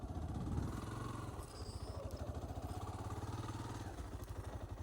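An AXR SPR300 quad's engine runs steadily at close range while reversing with the clutch engaged, a continuous chugging, pulsing drone throughout with no talk.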